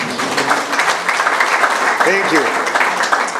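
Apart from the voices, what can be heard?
audience applause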